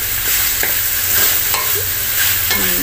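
Chicken and cabbage sauté in a pan with a constant loud sizzle. Occasional stirring scrapes break through the steady frying hiss, heard up close.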